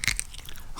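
A bean from a cocktail is bitten and crunched up close, giving one sharp crack followed by a few quieter chewing crunches with no talk.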